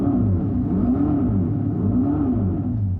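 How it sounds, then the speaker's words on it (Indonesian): Electric Dodge Charger EV playing a simulated engine sound: a loud, steady synthetic engine drone with rising and falling revs throughout, no voices. "Ini terdengar seperti mesin mobil, dan mungkin terasa seperti mesin mobil biasa."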